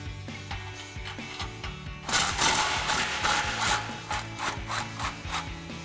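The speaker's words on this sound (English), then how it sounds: "we're going to grab a 14mm socket, a swivel socket, and an extension, and we're going to remove these 2 nuts" A ratchet with a 14mm socket, swivel and extension works loose two exhaust nuts on a 2022-2025 Toyota Tundra. Soft scraping at first gives way to a rhythmic series of close, rasping back-and-forth strokes.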